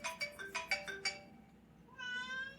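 A house cat meows several times indoors during a mead tasting: a quick run of close, clear meows, a pause, then one longer, drawn-out meow.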